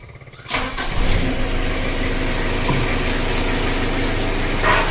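A car engine cranks and catches after half a second, then settles into a steady, fairly loud idle that holds to the end, nearby and without talk.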